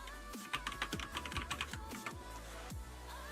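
Someone types steadily on a computer keyboard during a ranked game stream, the keystrokes clicking in irregular bursts over a constant low hum, fairly quiet and close.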